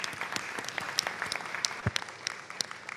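Sparse applause at an October 2021 board meeting, a handful of separate claps scattered across a quiet room with a few distinct sharp hits, fairly faint and thin.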